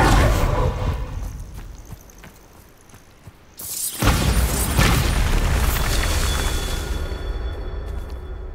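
A Bombarda spell explodes in Hogwarts Legacy with a sudden, loud, booming blast midway that rumbles and decays over several seconds, following quieter noisy game ambience.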